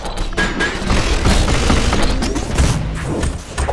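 Spike bow weapon in the Cobalt Alpha deathmatch game, a dense rapid burst of loud firing and thuds, rattling like a machine gun and continuous for the whole span.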